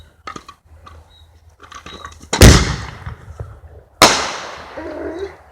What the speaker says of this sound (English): Mortar shell right there.